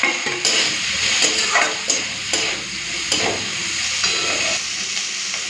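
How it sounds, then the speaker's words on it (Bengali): Chopped onion and eggplant frying in hot fish oil give a steady, close sizzle with recurring scrapes of stirring throughout, and no voices. "প্রথমে দিয়ে দিচ্ছি মাছের তেল, পেঁয়াজ কুচি আর বেগুন"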